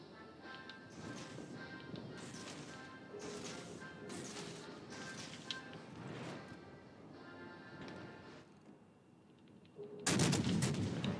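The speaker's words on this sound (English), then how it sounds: "Concentrate fire on the enemy warship." Naval artillery from a warship battle in a video game fires repeatedly in booming, sharp blasts over a steady rumbling background, ending with a loud burst.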